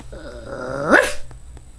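A small dog growls with rising harmonic whines, then lets out one sharp bark near the end, close and fairly loud, with no talking.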